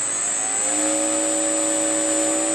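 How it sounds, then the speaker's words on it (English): RC model jet engine spooling up as the throttle opens, a steady loud whine with a high pitched tone and rising turbine pitch, continuous with no talk. "Got to turn on the engine. Throttle up just a bit."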